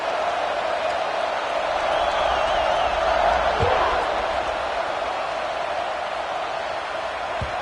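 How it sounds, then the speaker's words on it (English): A football stadium crowd at a Michigan vs UCLA game roars in a broad, sustained wash of cheering, with a faint thump or two audible beneath the continuous noise. "this crowd now ready to get behind them"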